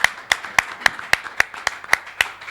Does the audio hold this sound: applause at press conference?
yes